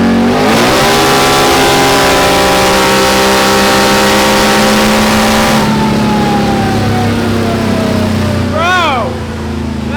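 A Can-Am four-wheeler roars at full throttle on a dyno, a loud sustained wail that climbs for several seconds, then drops off as the engine winds down and a second short rev sweeps up at the end.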